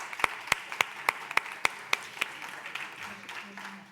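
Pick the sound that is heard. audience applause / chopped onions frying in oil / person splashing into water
audience applause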